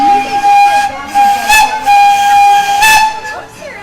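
Loud steam-style train whistle on the Knott's Spooky Farm ride train, held as a long steady tone that swells in two bursts over hissing, with no talk heard.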